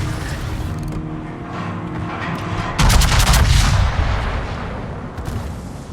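Heavy warship gun broadsides firing in a naval battle video game, with the Massachusetts among the ships: a sharp loud boom near the three-second mark followed by rumbling gunfire over continuous battle noise, with smaller reports after.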